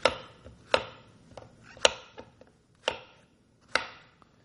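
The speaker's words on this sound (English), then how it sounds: "We're going to take our zucchini and chop it up a little bit so we can get it into our food processor" Knife chopping zucchini on a cutting board, five or six distinct sharp thunks at irregular intervals, close and clear with no talking.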